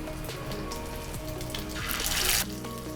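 Shami kebab patties fry in hot oil with a steady, dense sizzle and crackle, swelling briefly louder near the end before settling back to a constant hiss.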